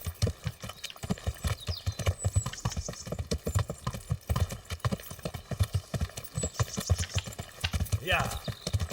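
Steady clip-clop of a horse's hooves in Kingdom Come: Deliverance at a brisk, even trot runs throughout, close and fairly loud, with faint rustling layered over it.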